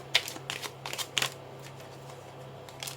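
Oracle cards shuffled for a tarot-style reading, with a series of crisp, close riffling bursts at an uneven rhythm and quieter pauses between them, over a faint steady hum.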